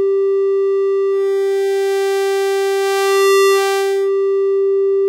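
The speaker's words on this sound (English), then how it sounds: "if we go to like 300 hertz, 400 hertz, something like that, we can hear the sine wave like so" A steady electronic sine tone at roughly 300 to 400 hertz from Reaktor Blocks hums loudly and continuously, picking up brighter overtones partway through.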